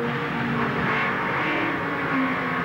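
Onboard a Porsche sports sedan racing at Amaroo Park in 1984, the engine drones loud and steady from inside the cabin, its pitch wavering slightly as the car works around the circuit.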